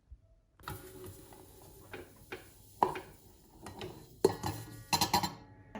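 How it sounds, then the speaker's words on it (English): A Kenwood Chef stand mixer whisks eggs and sugar in its bowl. A steady motor whir runs under clinks and rattles of the whisk against the bowl, with a few louder metallic knocks near the end. "get the Kenwood Chef out, and I'm going to mix the eggs and the sugar together until light and fluffy"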